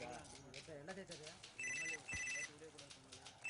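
A telephone rings in a Tamil film scene: two short bursts of bright electronic trilling ring out while people talk and background music plays underneath.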